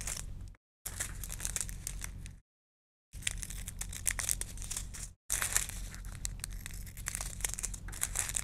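Sealed plastic packet of crystal art beads being cut open along its seams, heard as close, steady crinkling and crackling of plastic film in several bursts separated by short silent gaps, with no talking.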